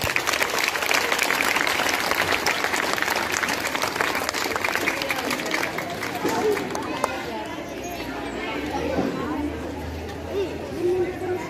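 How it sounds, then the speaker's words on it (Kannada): Loud, sustained applause from a crowd welcoming a guest at a government school's Independence Day celebration, dense clapping with chatter underneath, gradually easing off toward the end. "ಅವರಿಗೆ ನಿಮ್ಮೆಲ್ಲರ ಪರವಾಗಿ ಆತ್ಮೀಯವಾಗಿ ಸ್ವಾಗತವನ್ನು ಕೋರೋಣ, ಜೋರಾದ ಚಪ್ಪಾಳೆಯೊಂದಿಗೆ."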